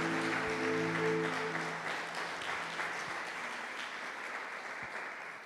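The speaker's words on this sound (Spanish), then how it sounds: "aplauda la palabra, aplauda el mensaje de Dios para usted y para mí." A church congregation applauds together, a dense, steady wash of clapping with some low voices underneath at the start, gradually tapering off over several seconds.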